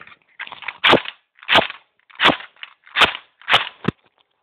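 A DS4 carbine softgun fires outdoors in a garden with six sharp, evenly spaced cracks about half a second apart, each preceded by a short whirring buzz of the mechanism, with no talk.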